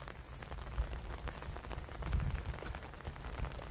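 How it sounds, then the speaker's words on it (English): Steady rain falling outdoors at a residential work site where an underground downspout drain pipe is being installed and backfilled, a continuous broadband patter with a few heavier bursts, no voices. "we've been working in the rain"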